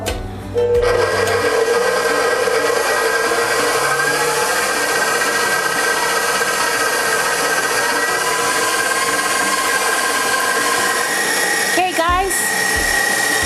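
An electric mixer whips egg whites at high speed for an orange pistachio tiramisu, giving a loud, steady whirring drone that runs nearly unbroken from start to finish with a brief dip and warble near the end.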